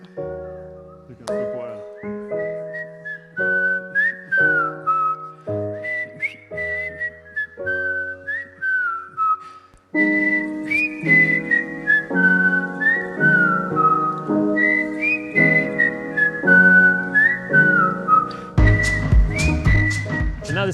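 Audience at a live concert whistling a melody together, bright pitched whistled phrases rising and falling in a steady rhythm, joined near the end by a louder full band.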